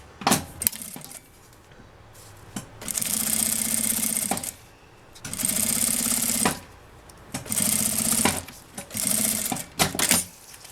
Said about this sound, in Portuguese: passo uma costurinha por aqui